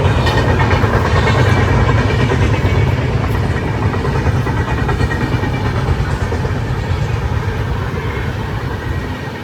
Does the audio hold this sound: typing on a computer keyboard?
no